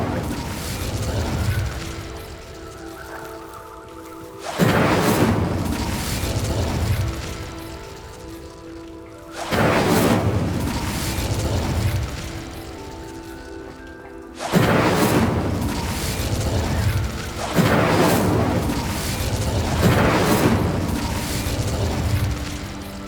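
Incendio fire spells blast in Hogwarts Legacy during a fight with an Acromantula, with four or five loud roaring bursts repeating every few seconds, each with a sharp onset and a crackling tail.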